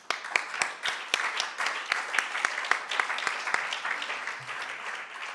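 Applause from a symposium audience on contemporary housing, a moderate, steady patter of many hands clapping for several seconds with sharp individual claps standing out.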